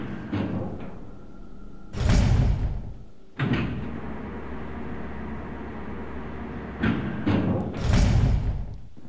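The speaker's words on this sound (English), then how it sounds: "Let me through to the elevator, which is now working." An elevator door in the Resident Evil video game opens and closes with heavy mechanical slides and thuds, several loud bursts separated by a low, steady hum.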